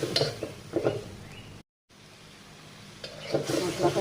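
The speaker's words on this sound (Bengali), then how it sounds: "গুঁড়ো মশলাগুলো দিয়ে দিলাম। এবার ভালো করে ভেজে নেবো।" Ground spices frying in a pan for a cauliflower and fish dish, a soft steady sizzle under brief bursts of nearby talk, with stirring scrapes and a short silent gap midway.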